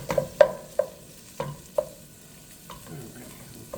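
Italian sausage, peppers and garlic cooking in a single pan, with a series of sharp utensil scrapes and stirring clacks over a soft sizzle, spaced irregularly and fading toward the end.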